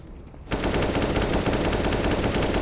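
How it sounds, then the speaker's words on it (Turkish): A CS:GO wallbang attempt: a short quiet lead-in, then a loud, sustained burst of rapid automatic gunfire that continues to the end. "Wallbang denemesi Incon'dan."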